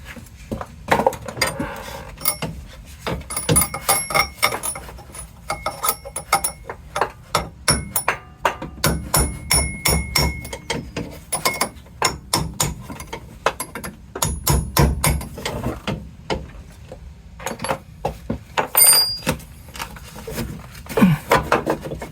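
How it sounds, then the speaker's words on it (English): A chisel is hammered to drive a ring off the AC clutch of an Acura CSX, giving a long series of sharp metallic blows, loud and close, in uneven bursts with brief gaps. "the only way right now to pull this one out is we have to use like chisel"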